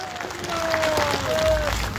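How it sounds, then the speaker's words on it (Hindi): A crowd at a public rally in Gaisadi, Balrampur applauds for two MLAs, a brief burst of clapping that swells and then holds, with a voice or tone sounding over it. "एक बार जोरदार तालियां दोनों विधायक के लिए होनी चाहिए"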